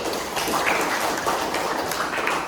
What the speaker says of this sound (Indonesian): tepuk tangan untuk Cici